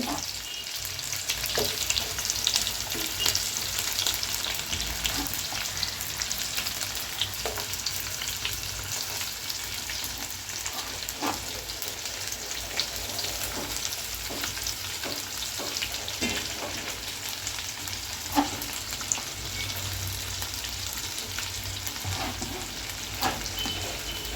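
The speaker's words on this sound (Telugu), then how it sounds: "ఉల్లిపాయ వేసుకున్నాం మనం. ఇది బాగా ఫ్రై చేసుకోవాలండి. గోల్డెన్ కలర్ వచ్చేలాగా ఫ్రై చేయాలి." Onions sizzle in a pan as the first step of chicken biryani, a continuous even frying hiss dotted with small pops and occasional stirring clicks, moderately close.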